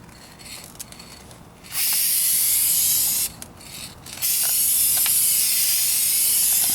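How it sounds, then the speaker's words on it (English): A spray can of Duplicolor Perfect Match base coat sprays paint onto a 2004 Kia Spectra rear bumper in two bursts of steady hiss, close by, with a rattly can and a short pause between bursts. "this is going to spray it on as a base coat, and I'll follow it up with the Duplicolor clear match"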